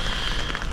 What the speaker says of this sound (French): Moi je suis arrivé au camping, il pleut